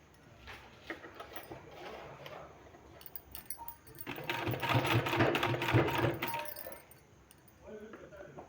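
A sewing machine stitches a sleeve in short bursts at first, then in a longer, louder run of rapid needle clatter, while a person talks nearby.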